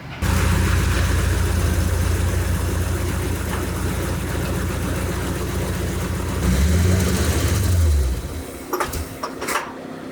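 A Corvette engine drones loudly while driving, with a deep, steady low rumble that swells as the revs rise, then drops away into a few clicks and rattles near the end.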